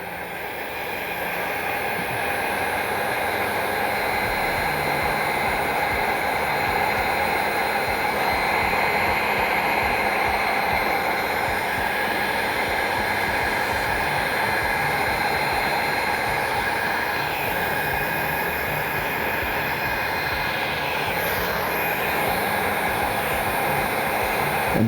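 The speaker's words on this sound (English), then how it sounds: "Then we take the heat gun again," A heat gun blows continuously with a loud, steady airy roar and a whine, holding constant close by for the whole stretch with no voices.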